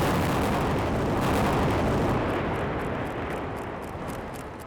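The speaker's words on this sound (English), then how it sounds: "At the Gustafson's blast in Ohio, the caps went off first. Then, starting from the far end of the bridge, the real explosions marched down the line" Chain of building demolition explosions fired in sequence after blasting caps, set off along a line toward a bridge in Ohio; dense, loud rumbling blasts with crackling bursts roll continuously and slowly fade.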